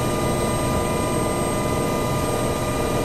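Helicopter engine and rotor noise in the FSX flight simulator game, a steady loud broadband drone with a constant whine, continuous and unbroken throughout.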